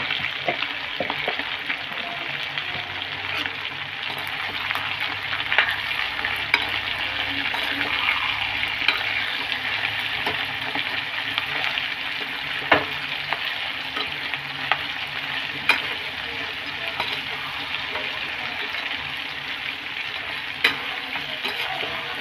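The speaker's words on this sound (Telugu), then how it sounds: "ముందుగానే కాళ్ళు తీసుకొచ్చి కాల్చి ముక్కలుగా కొట్టి ఫ్రై చేస్తున్నాను" Chicken feet, charred and chopped, fry with turmeric and salt in a pan, giving a steady close sizzle throughout with occasional sharp clicks from stirring and no talk.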